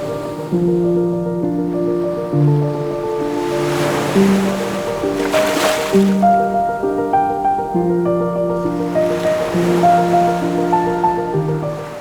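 Ocean waves on a beach in the Andaman Islands roll in as broad washing surges, two clear swells rising and fading under a steady melodic music bed.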